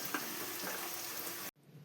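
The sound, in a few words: onions frying and sizzling in oil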